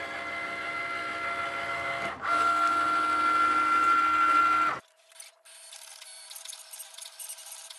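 A Cricut cutting machine slices glitter vinyl on a mat, giving a steady mechanical whir with a sustained motor tone that cuts off abruptly, followed by quieter, lighter machine movement.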